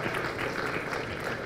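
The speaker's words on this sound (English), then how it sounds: "Let us give all our sponsors and partners a well-deserved round of applause" A brief burst of dense audience clapping at a conference closing ceremony, honouring sponsors and partners, steady and continuous throughout.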